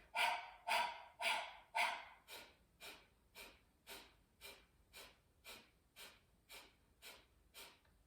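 Breath of fire during a kundalini-style meditation: a series of rhythmic, forceful breaths close to the listener, strong at first, then fading to a softer, steady pace, with no talk over them.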